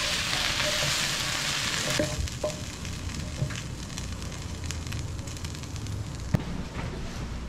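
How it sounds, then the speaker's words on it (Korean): Spicy pork with vegetables and a sauce stir-frying in a pan, a steady broadband sizzle running throughout with occasional soft clinks of a utensil stirring, close and moderately loud with no talking. "그리고 볶아줍니다."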